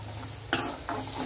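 A spoon scrapes through a pan of lemon juice and salt on a stove while it bubbles and sizzles softly underneath, with two quick stirring strokes close by.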